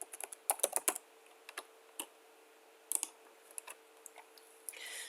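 Login and password typed on a computer keyboard, quick bursts of crisp key clicks in short irregular runs with pauses, close and fairly quiet.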